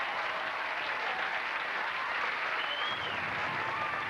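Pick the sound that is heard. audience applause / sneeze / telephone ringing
audience applause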